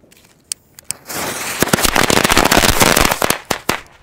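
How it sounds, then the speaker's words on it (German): A Rubro Big Bang firecracker chain set off outdoors on New Year's Eve: a few single pops, then a loud, dense rattling barrage of bangs lasting several seconds before thinning to scattered last cracks. "Wir haben hier eine Knallkette, und zwar die Big Bang von Rubro."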